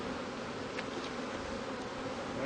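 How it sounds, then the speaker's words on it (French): Honeybees hum steadily around an open hive frame in an apiary, a continuous close buzz with a few brief louder passes of individual bees and no talking. "Beaucoup d'abeilles."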